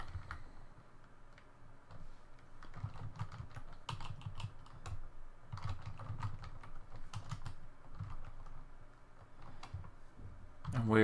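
Someone is typing code on a computer keyboard, with steady quiet key clicks in irregular bursts over several seconds and a low hum behind them. A voice talks over the typing at times.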